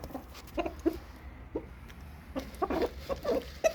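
A few hens on a home egg-laying flock cluck in short, scattered bursts, fairly close, with a low steady hum underneath and no talking.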